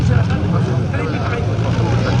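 A loud, continuous engine roar comes from a tractor-pulling machine with two 18,000 cc engines and about 900 horsepower, recorded at a 1982 pulling event in Anholt.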